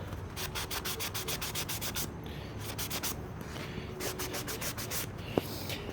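A sanding block rubs back and forth over the top of a wooden DIY action figure display stand, producing steady rhythmic rasping strokes in close, even bursts with brief pauses.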